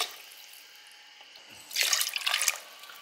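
Water poured over rice for khichdi runs in a short, splashy gush, building quickly and then trailing off after a nearly silent start.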